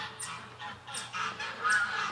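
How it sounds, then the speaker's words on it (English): Wild mallard ducks and drakes, startled and agitated, give a run of harsh honking calls in several bursts, fairly close and moderately loud over a low steady background rumble. "We've got wild drakes, mallards here."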